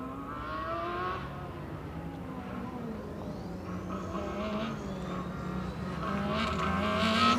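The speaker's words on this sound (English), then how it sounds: "Over the line, first successful autocross run for Uni Bucharest." A Formula Student race car on an autocross run at FSCZ 2025 drones steadily through medium-speed corners, its engine pitch rising and falling continuously and swelling louder toward the end, with no talk over it.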